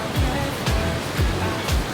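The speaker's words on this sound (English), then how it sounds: "Water coming through the little tunnel." Water rushes through the outlet tunnel at the base of Falls Lake Dam in North Carolina, a loud, steady broadband roar with faint recurring swooshes, and nobody speaks.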